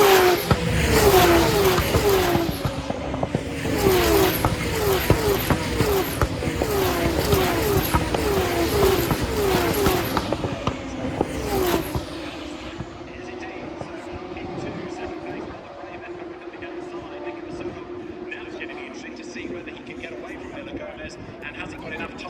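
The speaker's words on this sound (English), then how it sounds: "catch Gabriele Mini, so they come across the timing line now." Sprint race cars for Formula-style racing scream past one after another in rapid high-pitched engine passes, loud and close, then fade into a quieter distant drone while a commentator talks over them.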